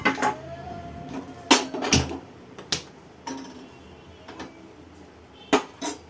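A metal cooking pot set down and handled on a kitchen surface while making South Indian rasam, producing several sharp clanks and knocks spaced irregularly, loud and close, with quieter rattles between.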